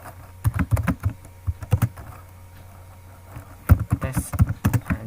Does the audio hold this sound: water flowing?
no